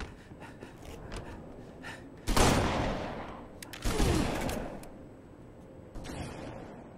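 Shotgun gunfire in the Halo Reach video game, two loud booming blasts a couple of seconds apart, each with a rumbling tail, followed by softer game noise.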